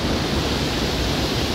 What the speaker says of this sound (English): That's High Falls up in Grand Portage State Park. Highest waterfall in Minnesota.